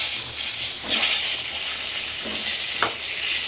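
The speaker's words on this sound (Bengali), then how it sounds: "দিয়ে আমি আলুগুলো লাল লাল করে ভেজে নেব" Potato pieces frying in oil with turmeric for a Bengali-style chicken biryani, a close, continuous sizzle with a few louder bursts as the pieces are moved.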